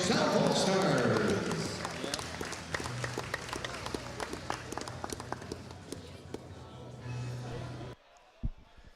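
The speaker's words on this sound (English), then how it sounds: "how about a nice round of applause for your" Applause from the crowd at a girls' high school all-star game, a dense wash of clapping that gradually thins out, with chatter and scattered noises mixed in.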